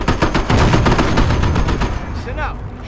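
Rapid gunfire in the World War II strategy game Company of Heroes, set during the Normandy invasion at Montebourg, with loud overlapping bursts of shots that ease off into scattered cracks and a brief ricochet-like whine.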